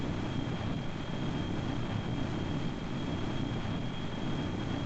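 An airplane accelerating down a runway and taking off in the video game Kerbal Space Program, a steady loud engine roar with a constant high tone, unbroken for the whole stretch with no talking.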